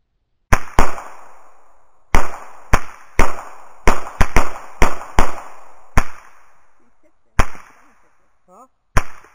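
Sharp, loud gunshots from a rifle with a red dot sight, about a dozen cracks fired in irregular bursts and singles, each ringing out briefly, with no talk between them.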